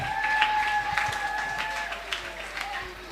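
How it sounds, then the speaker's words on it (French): Church audience applauding, a steady wash of clapping from many hands with a sustained tone lingering underneath, moderately loud and fairly close throughout. "Ethan, sous vos applaudissements, s'il vous plaît, Ethan."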